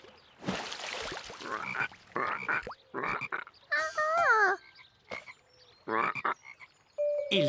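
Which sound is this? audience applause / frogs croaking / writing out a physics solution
frogs croaking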